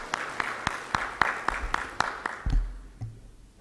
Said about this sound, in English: Big round of applause to our Secretary and our Honorable Chief Guest.